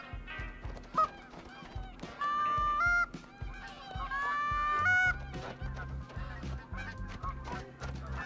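Geese honk loudly in a dense, overlapping flock chorus in theHunter: Call of the Wild on the Yukon map, the calls bunching into sustained bursts before breaking into scattered honks.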